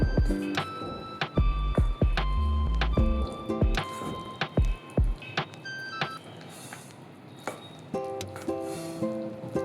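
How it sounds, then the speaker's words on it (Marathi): Sorghum flour batter being mixed with water in a bowl makes wet squishing, dripping and slapping sounds, irregular and close, with little else heard. "आता हे व्यवस्थित मिक्स करून घ्यायचं."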